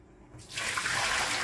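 Water poured out of the drip bowl of a DeLonghi ECAM 650.85.MS espresso machine into a sink, starting as a faint trickle and swelling into a steady close splashing rush, with no talking.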